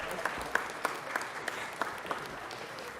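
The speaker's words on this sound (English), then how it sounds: "Let's give them another round of applause." A room applauds at a Los Angeles City Council recognition, modest steady clapping with a few sharper individual claps standing out.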